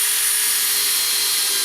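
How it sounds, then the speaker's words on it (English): A Makita 18V drill in gearbox 1 at clutch setting 5 drives a 10 gauge 50mm stainless steel screw, giving a loud, steady, unbroken whir and hiss close up, alone. "Now going to drive some 10 gauge 50mm stainless steel screws, and we will start with the 5 setting on gearbox 1, 18 volt drill."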